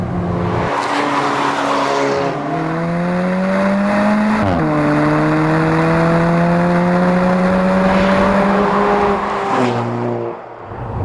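An Alfa Romeo 4C with a 1.7-liter direct-injected single-scroll turbo engine drives through corners, its close, loud engine note droning, dipping and climbing again between gear and throttle changes, with no talking.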